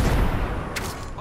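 A frag grenade goes off in Apex Legends with a short, muffled blast and rumbling low-end tail, followed by faint crackling debris, fairly quiet within the game mix.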